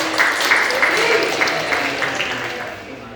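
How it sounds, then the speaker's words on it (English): An audience gives a round of applause for a speaker at a music-business talk, a short burst of clapping that is moderately loud and fades slightly toward the end. "Round of applause for Josh."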